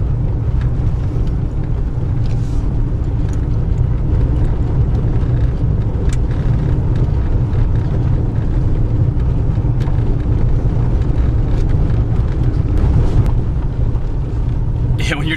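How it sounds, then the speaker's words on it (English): A car drives along a gravel road in rural central Pennsylvania, making a loud, constant low rumble with crunching road noise throughout and occasional scattered knocks, while a person talks over it. "Hop back in Naomi. And it's back to a gravel road again."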